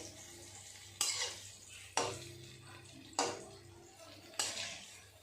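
Palm fritters (taler bora) fry in oil over a low, quiet sizzle, broken by four sharp clanks of a utensil against the pan at roughly one-second intervals as the fritters are turned.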